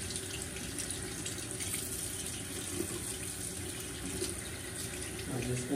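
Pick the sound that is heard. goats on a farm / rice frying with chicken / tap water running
tap water running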